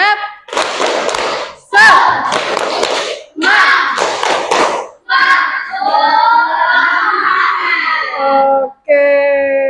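A group of children in a classroom chant the tepuk semangat cheer, their voices rising together in short bursts mixed with rhythmic hand claps, with brief pauses between phrases.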